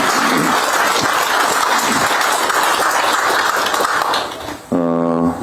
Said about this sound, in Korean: 여러분 축하의 박수 한번 부탁드리겠습니다.